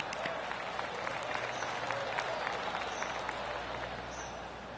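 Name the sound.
golf clap applause from a video game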